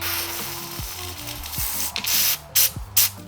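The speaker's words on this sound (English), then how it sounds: "I'm gonna spray a little bit in here too." Several short bursts of aerosol spray hiss sharply into a bicycle seat tube, the last few coming in quick succession after some low mechanical sounds.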